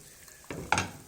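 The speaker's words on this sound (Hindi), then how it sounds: "इसके अंदर डालेंगे अब अंडे।" Eggs dropping into a pan of sizzling curry (salan) in a home kitchen, two quick hissing bursts about a quarter second apart, close and moderately loud over a quiet background.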